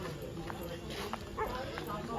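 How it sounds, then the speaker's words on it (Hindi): Dogs bark at night somewhere off in the distance, faint and intermittent beneath steady talking from people nearby. "कुत्ते भी भौंक रहे हैं"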